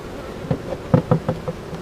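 Honey bees buzz around an open hive box, with several short, close buzzing passes rising and fading as individual insects fly past.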